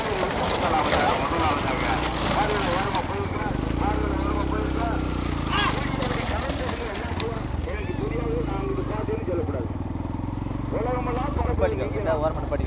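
Bulls hauling carts in a bullock cart race in Thoothukudi district, Tamil Nadu, make a continuous rumble of hooves, wheels and motor noise with a rhythmic clatter. Excited commentary in Tamil runs loudly over it throughout.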